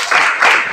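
Brief burst of group applause from students standing in a classroom session, a dense, loud wash of clapping hands lasting under a second.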